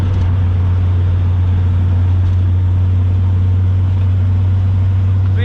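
A 1932 Ford with a 327 small block Chevy engine, four Stromberg 97 carbs and a T5 transmission cruises steadily, its low engine rumble and drone continuous and close with no talk.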